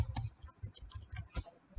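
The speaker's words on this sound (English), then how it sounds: "select this and you can start typing" Keystrokes tapped on a computer keyboard while a text box is being filled in a PowerPoint presentation, a quick irregular run of soft, close clicks with no voices.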